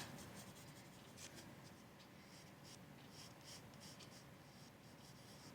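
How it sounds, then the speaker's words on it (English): Pencil scratching across paper while sketching a long collar shape for a Harry Potter dress robe costume, a soft continuous scribbling with short strokes, close and fairly quiet, no talking. "I'm going to try drawing in the collar"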